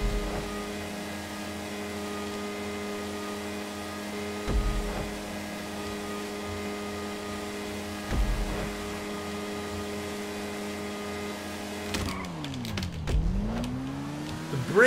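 A Nagasaki Shotaro motorcycle in the game GTA 5 holds a loud, steady high-revving engine drone, with brief dips at each gear shift, then sharp revs falling and climbing again near the end, with no talking.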